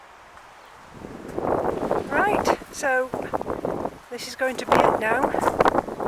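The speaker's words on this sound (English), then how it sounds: "Sorry about the noise of the wind" Gusty wind buffets the microphone with low rumbling bursts while someone speaks close by.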